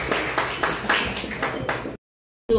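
A small audience claps for a remote participant at a reflection contest session, a loose run of distinct, fairly loud claps that stop abruptly into silence before a brief sound resumes.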